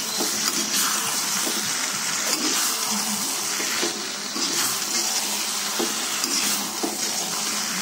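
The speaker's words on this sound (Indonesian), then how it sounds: "Kita aduk kembali ya." Chicken in green chili sauce stirred in a pan for Bukittinggi-style ayam lado hijau, a steady dense sizzle with scraping stir strokes running throughout, close and fairly loud with no talking.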